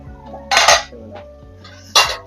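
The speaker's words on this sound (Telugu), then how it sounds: "ఇప్పుడైతే పది నిమిషాలు అయిపోయింది మూత తీసి చూద్దాం" A metal lid comes off a cooking pot of mutton curry with two clattering clanks of metal on metal, loud and close, separated by a quiet simmer.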